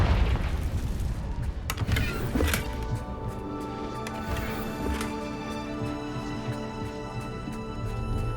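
A Confringo fire spell bursts in Hogwarts Legacy with a couple of deep, booming blasts near the start. The booms fade into a sustained rumble over steady game music.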